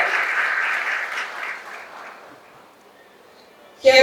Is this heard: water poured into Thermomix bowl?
no